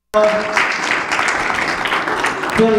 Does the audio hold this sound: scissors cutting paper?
no